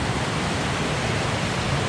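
Mountain creek in Alaska running high along a flooded trail, a steady, loud rush of flowing water that fills the whole moment without a break and with no voices.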